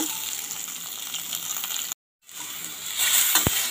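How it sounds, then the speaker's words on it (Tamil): Raw mango pieces sauté in a hot pan, giving a steady loud sizzle that breaks off briefly and returns stronger, with a sharp tap of a utensil near the end. "இப்போ மாங்காவை சேர்த்துக்கலாம். இதெல்லாம் நல்லா 1 நிமிஷம் வதக்கிக்கலாங்க."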